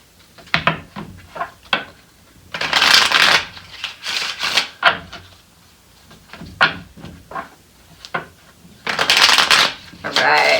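Tarot cards are shuffled in a run of loud, close riffling bursts, some short and some longer, with a few quiet gaps and brief talking in between.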